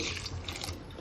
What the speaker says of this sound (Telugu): కొన్ని నీళ్ళు పోసుకొని